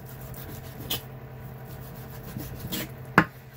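Bacon being chopped with a dull kitchen knife on a board, a few soft scraping cuts and one sharper knock near the end, close and fairly quiet with no talk.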